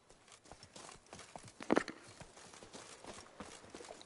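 Roach, a horse in the video game The Witcher 3, clip-clops along in soft, quiet hoof strikes, with one brief louder thud in the middle.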